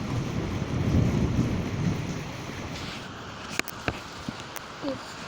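Thunderstorm with a low rolling rumble of thunder over steady rain, followed by a few sharp drips and knocks close by as the rumble fades.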